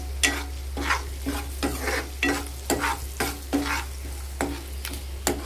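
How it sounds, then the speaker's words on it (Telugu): Green chilies with turmeric are fried and stirred in a pan: repeated scraping spoon strokes in a steady rhythm over a sizzle and a low constant hum. "అందులో పచ్చిమిర్చి వేసుకోవాలి. వేసాక మంచిగా ఫ్రై చేసుకోవాలి, బాగా కలుపుకోవాలి."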